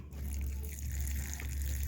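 Water is poured onto poha for a Kathiyawadi-style dish in a steady, close gush that lasts the full two seconds, with no talking.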